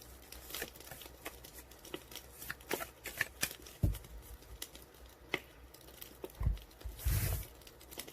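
Tarot cards being shuffled by hand during a reading, a close, irregular series of papery riffles, slaps and soft thumps with brief pauses between bursts, no speech.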